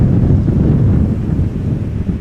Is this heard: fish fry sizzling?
no